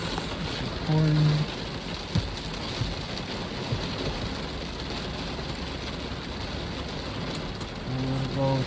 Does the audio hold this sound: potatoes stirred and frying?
no